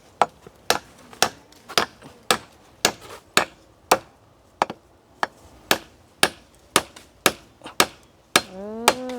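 Hammer blows on a corrugated zinc roofing sheet, a steady run of sharp, loud metallic strikes spaced about half a second apart, close by, with a brief voice right at the end.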